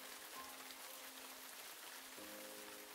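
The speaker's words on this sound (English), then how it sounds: "It's now raining." Steady rain falls in an anime scene, an even, faint hiss of drops on surfaces that continues unbroken, with a quiet tone running beneath it.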